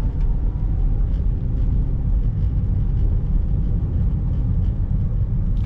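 Perodua Myvi 1.5 SE ZHS automatic, a 2014 car, driving along with a steady low engine and road rumble, continuous and fairly loud with no talk.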